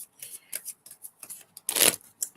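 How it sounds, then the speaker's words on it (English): Tarot cards are shuffled in short, irregular papery riffles, close and fairly quiet, with one louder, longer burst near the end. "Shuffling."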